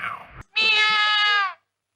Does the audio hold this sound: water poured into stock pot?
no